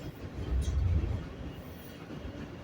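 Train carriage rolling along the rails, a steady low rumble with a heavier swell early on, then a continuous ride noise settling to a lower, even level.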